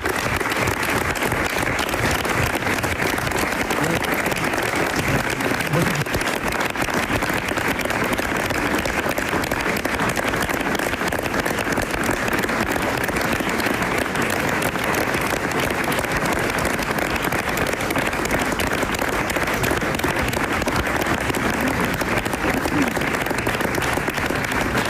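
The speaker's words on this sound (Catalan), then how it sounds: "Aplaudiments espontanis." Spontaneous applause fills a room at the closing of the Valencian broadcaster RTVV, a long, dense, unbroken roll of clapping from many hands, loud and steady with faint crowd voices beneath.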